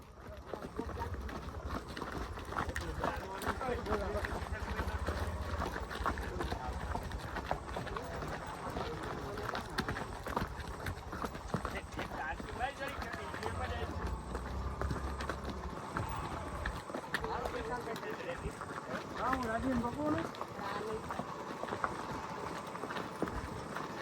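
Mares being ridden out give a steady run of hoof clip-clops along with continuous outdoor noise, while people talk nearby throughout.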